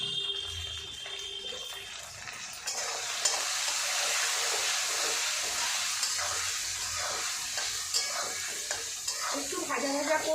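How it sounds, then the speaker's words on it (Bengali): Pieces of taro, seasoned with salt and turmeric, fry in a pan with a bright, steady sizzle, joined by scraping stirs that recur throughout, close up with no talking. "দেখো কচুগুলো একটু ভাজা ভাজা মতন হয়েছে"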